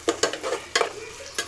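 Ginger garlic paste frying and being stirred in a pan, with several short scraping stirs over a steady soft sizzle, close and fairly quiet, no talking.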